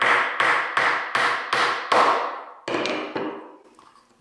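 Nails hammered into a handmade cardboard and wood cat car box: about seven loud, evenly spaced blows close by, then a few slower, quieter strikes, with no talking.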